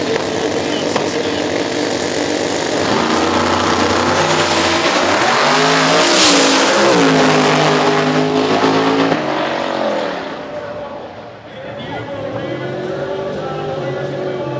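A drag racing car with radial tires revs hard at the starting line of an eliminations round, a loud sustained engine roar with pitch swings, staging revs, dips and a brief tire squeal.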